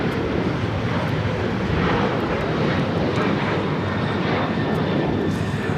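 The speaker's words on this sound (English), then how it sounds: "This is Delta Airlines 615 taking off to Cancun on a 737-900ER" Delta Airlines Boeing 737-900ER jet taking off from LAX, a loud steady broadband engine roar with a low rumble sustained throughout, unbroken by any talk.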